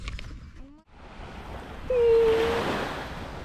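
Sea waves at Hergla beach in Tunisia, a soft wash of surf that swells louder partway through, with wind buffeting the microphone and a brief whistle-like tone over the water.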